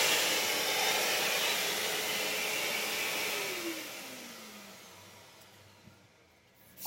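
A vacuum cleaner runs steadily with a loud, broad whooshing roar that holds for several seconds, then lowers in pitch and fades as it winds down near the end, with no voices.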